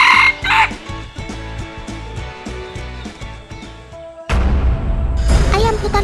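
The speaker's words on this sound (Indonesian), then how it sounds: "Ia pun membalas kokokan si ayam pikat." A red junglefowl rooster crows loudly in reply, a strong clear call near the start, with a second bird's crowing and background chorus layered through the clip and a louder burst near the end.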